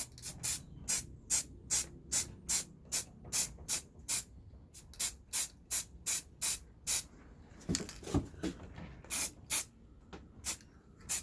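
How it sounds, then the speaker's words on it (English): Short, sharp hisses of an aerosol can spraying black paint onto a modified Nerf blaster repeat in a quick, regular rhythm, with a brief pause and a clunk of handling partway through. "Now let's spray it black."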